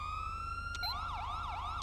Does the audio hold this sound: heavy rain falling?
no